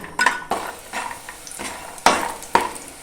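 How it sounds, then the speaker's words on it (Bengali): Lentil dumplings (bori) fry in oil in a pan while a utensil stirs them, giving a handful of sharp metallic clinks and scrapes over a faint, close sizzle, with no voices. "এই তেলের মধ্যে আমি বড়িটাকে প্রথমে ভেজে নেব।"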